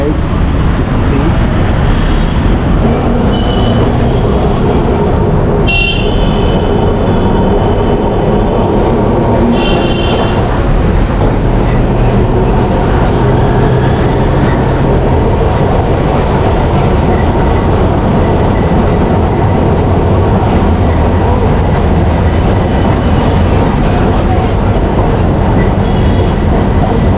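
An old British heritage tram riding through the streets of Calcutta, India, produces a loud, continuous rumble and rattle with metallic clatter and brief squeals, heard close and unbroken throughout.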